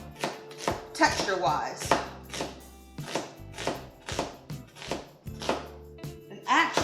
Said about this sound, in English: So my onion, I like them to be cut up very finely because I mostly want them for flavor